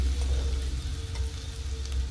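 Garam masala being stirred into a frying pan for crab curry gives a short, close sizzle with soft scraping from stirring over a low background rumble.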